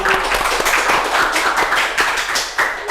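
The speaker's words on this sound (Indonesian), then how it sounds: "Tepuk tangan." Dense clapping from a group gathered on the 95th floor of an apartment tower in Palu, steady and close throughout, with no talk over it.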